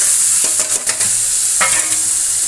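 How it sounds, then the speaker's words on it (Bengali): Onion and spices are stir-fried in oil in a pan, a loud, close sizzle with a couple of scraping stirs of a spatula across the pan and no one talking. "মশলাটা কষিয়ে নেব"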